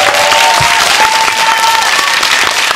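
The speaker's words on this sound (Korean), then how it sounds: "박수 주세요." Loud, dense audience applause for the haenyeo women divers at a film festival screening talk, continuous crowd clapping with a faint tonal sound running beneath.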